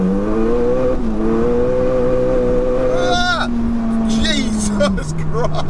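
A 607bhp SEAT Leon Cupra pulls hard in third gear on medium boost, its engine droning loud and close with a rising, slightly wavering tone, while excited voices shout inside the cabin.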